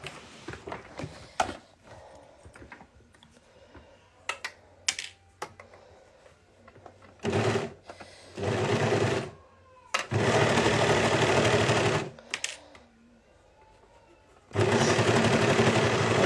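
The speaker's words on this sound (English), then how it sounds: "now we're just going to sew along here and along here." Sewing machine stitching fabric pieces together in loud, steady whirring runs of one to three seconds, close by, after quieter handling clicks and snips with no talking.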